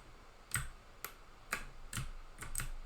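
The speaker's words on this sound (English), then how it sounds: "I'm going to use the arrow keys on the keyboard" Computer keyboard arrow keys pressed one at a time, giving six sharp, fairly close clicks at an irregular, roughly half-second rhythm over a quiet background.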